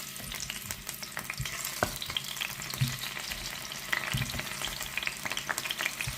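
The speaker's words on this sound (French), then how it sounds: "Je vais venir plonger mes pommes de terre," Potatoes fry in fairly hot oil in a pan for a beef and potato stew, giving a steady dense sizzle throughout with a few soft clatters and stirring knocks, close by and with no voices.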